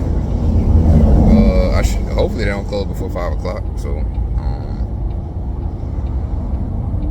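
A JB Hunt truck's engine, just running again after a breakdown, holds a steady low diesel rumble throughout, with someone talking over it early on.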